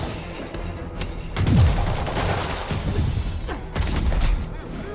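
Enemy gunfire in a Spider-Man video game, scattered shots and bursts with crashing impacts and a swooping effect, moderately loud, while in-game voices shout over the action.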